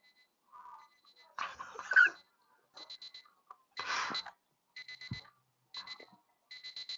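An alarm clock beeps in short repeating bursts, fairly faint in a room, while people talk and call out over it to wake a sleeper.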